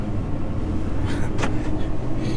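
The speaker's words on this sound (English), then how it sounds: "trying out the F250 diesel for the first time" Ford F250 diesel pickup truck driving, a steady low engine and road rumble heard from inside the cab, loud and continuous with a few brief higher noises.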